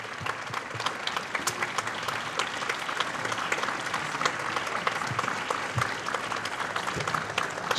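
An audience gives sustained applause after a wind band concert at a castle, dense steady clapping that carries on without a break.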